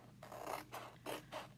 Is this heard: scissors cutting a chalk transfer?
yes